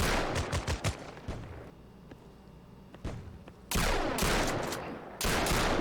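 Gunfire in a beta crypto shooter game, including a sniper rifle: rapid, loud bursts of shots up close, a lull with scattered single cracks, then heavy sustained firing that breaks off and resumes.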